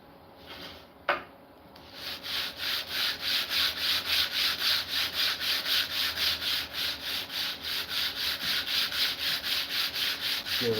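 A Japanese hand plane is flattened on 120-grit abrasive, heard as steady, rhythmic back-and-forth rubbing strokes that begin after a brief knock and continue close and loud.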